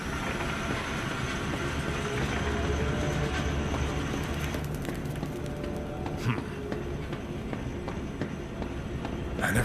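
A train and trolleys rolling through a zoo in the video game Zoochosis: a steady, rumbling rail run with clattering wheels and a few sharp knocks, moderately loud, with a voice talking over it.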